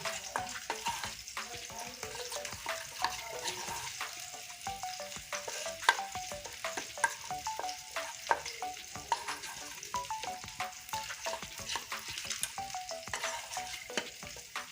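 Fish roe is worked together by hand with a small amount of mustard oil, producing steady wet squelching and sticky mixing noises with scattered sharper clicks, close and continuous throughout, with no talking.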